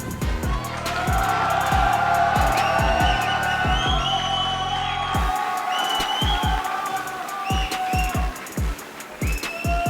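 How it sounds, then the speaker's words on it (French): A fight-night crowd at AOS 3 cheers and whoops for a fighter, the roar loud and sustained under heavy pounding music with a deep, steady bass beat. "Faites un tonnerre d'applaudissements pour Ashraf Mejdoubi."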